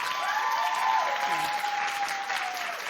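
Studio audience at a talk show clapping in a full, sustained round of applause that keeps an even loudness throughout, with a faint voice rising above it.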